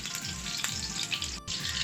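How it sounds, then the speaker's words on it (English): Steady crackling sizzle of steak searing in a pan on medium-high heat, close and continuous with small pops, no voices. "just let it sizzle there"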